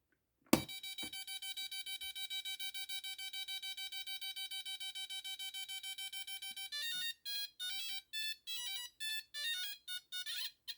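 Entex Super Cobra handheld electronic game from 1982 running its demo mode: a sharp click, then a long steady electronic buzzing tone, followed by rapid pulsing bleeps in a choppy rhythm, close and alone.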